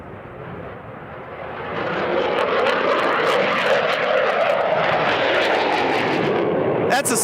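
Military jet aircraft flying over during the 2018 Northern Lightning air exercise at Volk Field, a loud roaring jet rush that swells and holds, with a voice talking over it.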